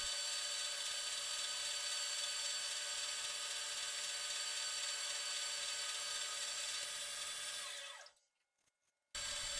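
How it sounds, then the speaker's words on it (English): A carbide cutter on a Rockwell 12 metal lathe turning the end of a steel pipe makes a faint, steady high whine and hiss for about eight seconds, then cuts off abruptly before a brief return. "This is working the other end of that piece of pipe with yet another carbide cutter and the correct approach angle."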